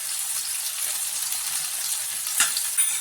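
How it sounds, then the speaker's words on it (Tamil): Spices including Kashmiri chilli powder and garam masala sautéing in a pan for chilli parotta, giving a steady close sizzle with a brief stir or splash near the end. "பச்சை வாசம் போகிற வரைக்கும் நல்லா வதக்கி விட்டுக்கலாம்"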